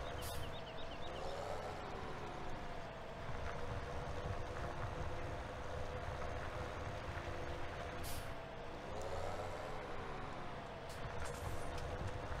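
An old tractor in a farming video game drones steadily while driving, a continuous low rumble with periodic rising and falling whines, moderately loud and alone.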